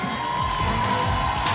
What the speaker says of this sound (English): please, a round of applause to the 8 wonders of the earth